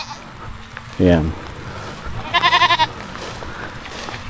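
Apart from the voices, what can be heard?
goats bleating on a farm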